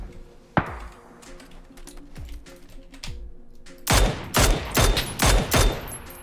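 Gunfire in PUBG: one sharp, close shot, then a couple of fainter distant reports, then a rapid run of loud, crisp shots in quick succession, with no talking.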